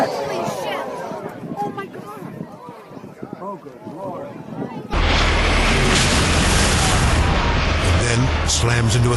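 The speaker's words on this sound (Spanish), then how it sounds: "All three aircraft crash into the ground." Jet aircraft crashing into the ground at an air show: speech for the first half, then a sudden, sustained loud broadband roar of impact and fire that fills the remaining seconds.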